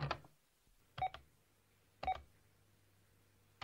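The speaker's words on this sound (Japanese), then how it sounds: "前に早乙女から電話番号聞いといて助かったぜ。" Three evenly spaced telephone keypad tones about a second apart ring out cleanly as a number is dialed, with near silence between them.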